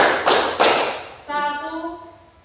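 Schoolchildren in a classroom clap in unison during a focus clapping game, two crisp group claps in steady rhythm before a teacher's voice takes over.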